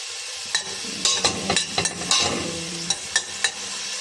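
Onions sizzling in hot oil for Arabic saluna, a steady frying hiss broken by repeated sharp scrapes and taps of a spatula stirring in the pan, close and without talk.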